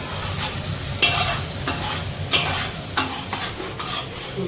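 Ginger garlic paste frying in a pan with onion and tomato for a homemade seafood boil, a steady close sizzle broken by several sharp stirring scrapes at irregular intervals, with no talking.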